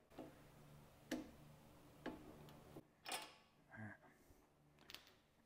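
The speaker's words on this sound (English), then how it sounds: "All right, I am going to use my torque wrench." A torque wrench set to 15 foot-pounds tightens a fastener on a John Deere 110 lawn mower, giving a few sharp, close clicks spaced about a second apart over a quiet background.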